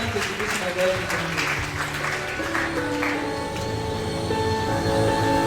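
A church congregation applauds and cheers in acclaim of Jesus during a service, with sustained clapping and voices blending under music for several seconds.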